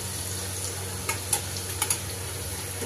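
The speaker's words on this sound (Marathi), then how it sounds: "असं लाल होऊ द्यायचा लसूण चांगला लालसर." Garlic frying in a pool of oil for Maharashtrian aamti, a steady quiet sizzle with a few soft clicks of a ladle against the pan.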